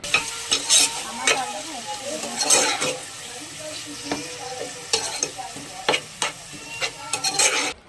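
Chicken and onions fried in a pan and stirred with a ladle for tomato chicken curry: sizzling hiss under repeated metallic ladle scrapes and clanks on the pan, close and moderately loud.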